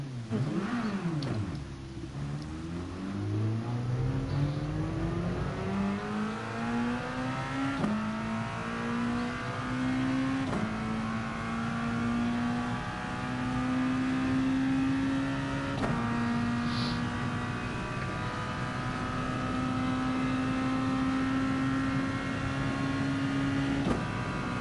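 A racing car engine runs continuously while driving on grass at a Red Bull junior event, its pitch climbing steadily through repeated gear changes, loud and close with a constant rough drone and no talk.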